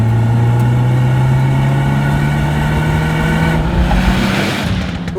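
Turbocharged 2.4-litre boxer engine of a 2024 Subaru WRX TR pulling under acceleration, a loud, steady drone with pitch climbing smoothly throughout, close and continuous with no talk.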